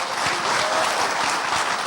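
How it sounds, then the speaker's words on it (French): Studio audience applauding at a televised talk show, a dense, steady wash of clapping that fills the whole stretch at even loudness with no voices over it. "Applaudissez pour vous"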